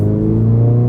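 A 2022 Subaru BRZ with a Tomei Expreme Ti 80R titanium catback exhaust gives a steady, low, droning rumble at idle or low revs, continuous and fairly loud for about a second.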